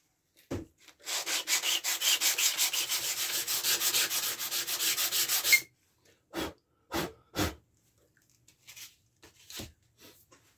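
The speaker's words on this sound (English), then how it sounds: "I'm going to be using 240 grade sandpaper gently, just to see if I can" Sandpaper of 240 grade rubbed over a wooden interior panel, a steady close scratching stroke rhythm lasting several seconds, followed by a few separate knocks and taps.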